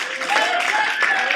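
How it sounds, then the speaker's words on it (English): A late-night audience applauds the band in a brief burst of broad, continuous clapping, with a voice talking over it. "we can give them a round of applause one more time"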